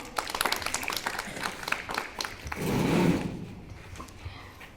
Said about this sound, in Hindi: साथ ताली मारते हैं।